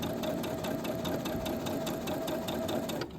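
Sewing machine sewing fabric for mini stockings, a close, continuous rapid clatter of the needle that runs evenly for a few seconds and then stops.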